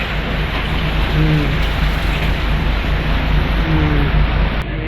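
Heavy rain pouring onto the deck of a large ship at sea, a loud continuous dense hiss with a low rumble underneath, constant from start to end.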